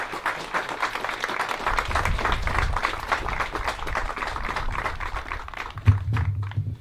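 An audience at an observatory dome dedication applauds in a long, steady wash of clapping that continues throughout, with a louder thump near the end.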